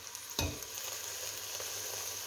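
Onions fry soft in a pot on the stove as a quiet, even sizzle. It opens with a single knock of a utensil and carries on steady without any talk.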